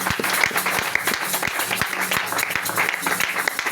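A church congregation applauds and cheers loudly in praise of the risen Lord during an evening service, dense sustained clapping with voices mixed in throughout.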